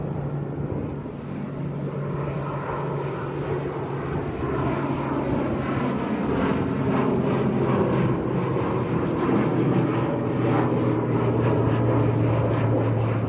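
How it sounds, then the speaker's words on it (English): A Binter ATR 72 turboprop lifts off at Lanzarote airport, its propeller drone steady and fairly loud, a broad whooshing roar with a low hum holding throughout and building slightly as it climbs. "Here comes Binter, just getting airborne, ATR 72."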